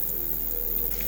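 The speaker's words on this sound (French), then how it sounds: "On entend le rideau de pluie arriver." An approaching curtain of rain during a thunderstorm is heard outdoors as a continuous, even hiss of rainfall at moderate distance, with a faint low rumble beneath.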